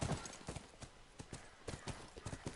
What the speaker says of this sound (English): So I'll take the horse for a ride.